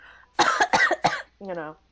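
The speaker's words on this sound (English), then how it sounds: "then I cough quietly" A quiet, short cough, or a few soft coughs, is heard during a tabletop role-playing session, close and brief, amid people talking.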